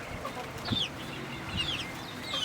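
A hen in a homemade backyard chicken coop gives a few soft, short clucks and chirps, faint and close, with no voices.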